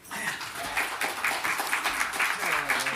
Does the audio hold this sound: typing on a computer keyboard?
no